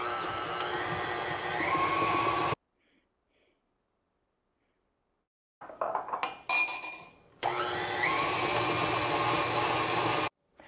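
Electric mixer beating egg yolks into keto Italian cream cake batter, a steady loud whirring drone that stops, leaves a gap of silence, then restarts after some clatter and runs on before cutting off again.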